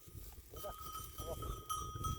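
Goats on a mountain bleat faintly now and then while people talk and laugh close by, with a soft jingle like a bell mixed into the quiet outdoor background.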